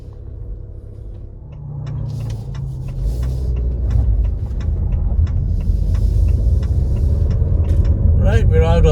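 A Maserati Grecale Modena, a four-cylinder hybrid crossover in GT trim, drives on the road with a steady low engine and road rumble that builds slightly, heard from inside the cabin.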